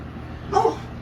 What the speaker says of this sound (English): That's our dog Kalina barking at something.